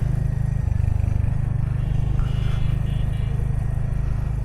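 A Royal Enfield Hunter 350 motorcycle runs at a steady, even idle. Its single-cylinder thump is close and constant throughout, with a light mechanical clatter and no voices.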